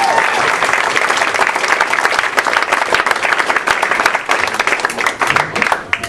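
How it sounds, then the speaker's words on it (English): Audience applause for a stand-up comedian at a comedy club, steady dense clapping from a crowd filling the room throughout, loud and continuous with slight swells. "Clap your hands."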